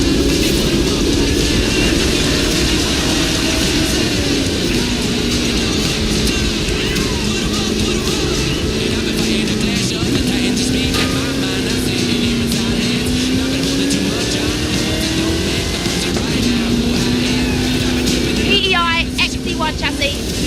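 In Forza Horizon 5, a car with a 540 cubic inch Chevrolet engine and 66 inch Terra tyres roars continuously, its loud engine drone rising and falling in pitch, with someone talking over it.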